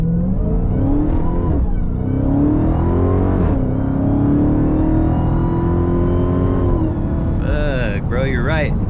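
A 2020 Dodge Charger Hellcat Widebody engine accelerates hard from the cabin, its loud, rising growl building steadily and then easing, while people talk over it throughout.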